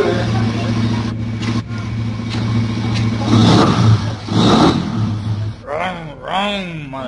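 Engine drone in a League of Legends game, a steady mid-pitched motor hum with rising revs, under a person talking and exclaiming near the end.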